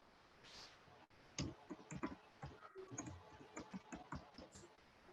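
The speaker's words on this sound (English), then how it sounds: "I'll just type it in our chat box." Computer keyboard keys clatter in quick irregular bursts of clicks while someone types a word into an online chat box during an English practice session; the typing is close and moderately loud, with no talk over it.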